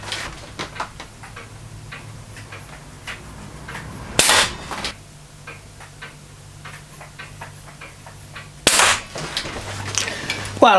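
Two sharp, loud shots from a Swedish Excellent Model C11 multi-pump pneumatic air rifle, spaced several seconds apart, with faint clicks and handling sounds between them.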